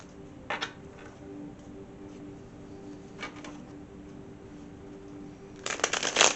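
Tarot cards being shuffled, a brief riffle near the start and another midway, then a louder burst of rapid flicking card sounds at the end over quiet room tone, no speech.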